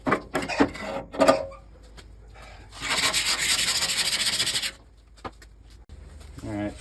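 A metal scraper rubs across a Blackstone griddle top in short strokes, then one long, steady, harsh scrape of about two seconds, ending in a few quiet knocks.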